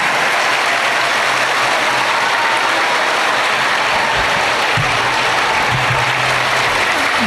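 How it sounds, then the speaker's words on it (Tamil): A crowd claps loudly and continuously in an auditorium at a Kamarajar birthday celebration, a dense wash of applause filling the large room with no voices standing out. "ஒட்டு மொத்தமாக இந்த அரங்கமே அதிர்ற மாதிரி ஒரு பலத்தை கைத்தட்டல் கொடுங்க"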